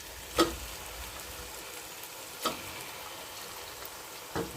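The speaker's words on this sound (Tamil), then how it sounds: "வெட்டி வச்சிருக்கிற கோழிக்கறியை போட்டுடலாம்." About two kilograms of chopped, cleaned country chicken cook in a hot pan for a village-style curry, giving a steady, moderate sizzle broken by a few sharper pops and stirring knocks.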